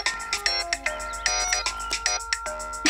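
A melodic phone ringtone plays a quick repeating pattern of bright electronic tones, loud and close, with no voices over it.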